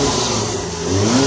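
A PT Cruiser with a 2.4 liter GT turbocharged engine revs up close and loud, a steady mid-pitched engine roar rising in pitch toward the end, with no talking.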